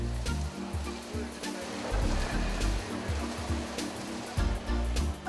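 Large paddles turning through heated milk in a cheese-making vat, producing a continuous watery churning rush over a low mechanical hum, with periodic heavier swishes.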